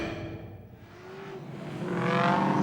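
V8 ute race cars at the 2013 V8 Ute Series Townsville Race 3 on track, engines droning and revving with rising pitch, growing steadily louder toward the end.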